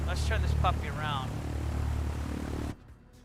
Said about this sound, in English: and leave the engine running